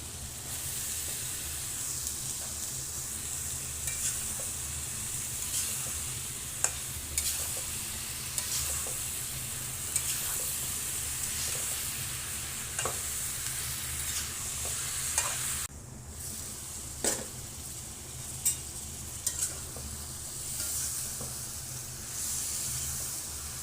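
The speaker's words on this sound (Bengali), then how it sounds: "মশলা আমার কষানো হয়ে গেছে, এখন সবজি দিয়ে দেবো।" Vegetables are stirred into fried spice masala in a home kitchen pot, a continuous sizzle and hiss broken by repeated spoon knocks and scrapes against the pan, no talking.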